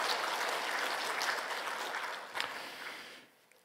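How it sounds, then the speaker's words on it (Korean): A church congregation applauds together at a Wednesday worship service, a dense, moderately distant clatter of clapping that holds steady and then fades out near the end. "우리 박수로 한번 축복하겠습니다"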